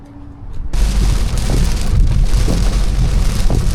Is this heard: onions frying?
no